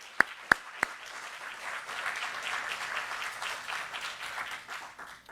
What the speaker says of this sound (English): please give another round of applause to our new Chief and Deputy Chief of Aurora Police Department